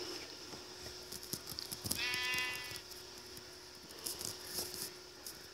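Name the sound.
sheep bleating in the video game Minecraft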